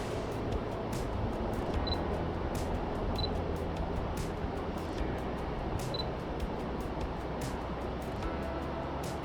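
A DSLR camera shutter fires handheld at about 150mm focal length, several crisp close clicks spaced a few seconds apart over a constant outdoor background rumble.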